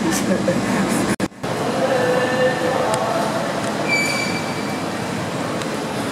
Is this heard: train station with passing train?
yes